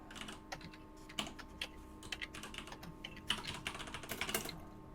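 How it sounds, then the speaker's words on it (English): Fast typing on a computer keyboard, with rapid irregular bursts of key clicks at moderate level and no talk. "I don't like fast keyboard typing."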